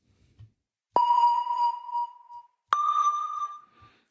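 Two sustained synth tones from a Drambo synthesizer preset with LFO modulation, each starting with a sharp attack and holding a bright, slightly wavering pitch before fading, separated by a brief silence.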